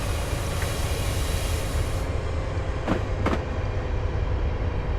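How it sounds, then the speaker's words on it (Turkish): In a train simulator game set on the Kartal–Pendik line, a train rolls with a steady low rumble and wheel noise, and two brief whistling squeals cut through near the end. "Oo karşıdan tren geliyor."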